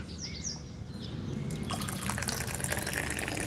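Water poured for an infusion of Da Hong Pao oolong tea, a steady liquid stream that swells louder partway through, close and alone with no talk.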